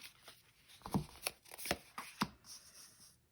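A deck of oracle cards shuffled by hand, producing sharp papery snaps and soft riffles in an uneven rhythm, close up and moderately loud with no talking.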